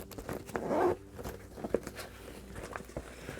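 A zipper is pulled open on the main compartment of a Boundary Supply bag, one quick close rasp followed by soft rustling and handling of fabric.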